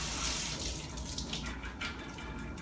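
Tap water runs steadily into a sink as soaked almonds are strained and rinsed, a continuous close splashing hiss with no talk.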